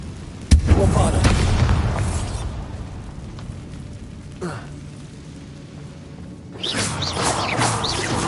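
The Bombarda spell in the video game Hogwarts Legacy cracks into one sharp, loud explosive boom. A rumbling, whooshing tail fades over several seconds, and a second burst of rushing magical noise swells near the end.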